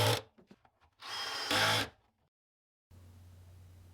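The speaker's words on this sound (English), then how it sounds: "shot some screws into the back to hold it square" A power drill drives screws into the base of a rolling wooden toolbox in short whirring bursts, close and fairly loud, then falls silent before a faint steady hum.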